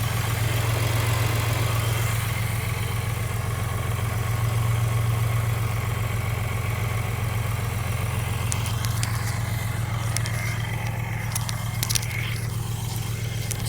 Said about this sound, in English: I'm using the microphone to get closer to the engine for a good listen.